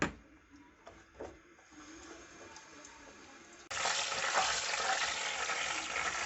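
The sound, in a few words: cumin seeds lightly frying in pan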